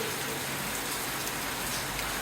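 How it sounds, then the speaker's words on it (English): Heavy rain pours down steadily in Laos, a dense, constant hiss of a downpour drumming on surfaces, close and unbroken throughout with no voices. "It's just been turning on and off like a bloody tap, this rain today."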